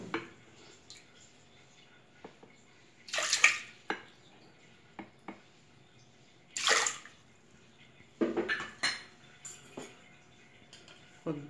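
Pigeon peas (dal) being washed in water in a kitchen: intermittent splashing and sloshing bursts with rinsing drips and clinks, recurring several times with quieter gaps between.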